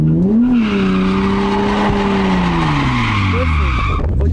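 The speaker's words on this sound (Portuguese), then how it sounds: "o carro tá rodando de uma vez descontrolado" Tires squeal continuously as a car skids around in a donut during a driving lesson, a loud, wavering screech over engine noise that holds for the whole four seconds.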